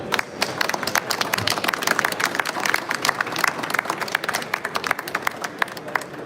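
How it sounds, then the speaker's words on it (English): Audience at the BAU 2025 trade fair product reveal gives a steady round of applause, dense overlapping claps with a few sharper near ones, sustained at moderate loudness throughout with no talk over it. "A huge round of applause, ladies and gentlemen."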